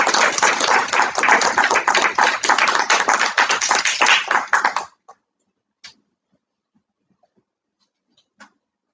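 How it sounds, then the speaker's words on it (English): A small audience at a debate and public advocacy session claps for about five seconds, a close, fairly sparse patter of individual hands, then stops abruptly, leaving a few faint stray taps in near silence. "We were giving you a round of applause"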